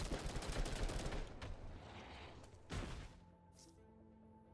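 Rapid automatic gunfire in Girls Frontline 2: Exilium: a dense burst of close shots, then a few scattered single reports and mechanical clatter as the shooting stops.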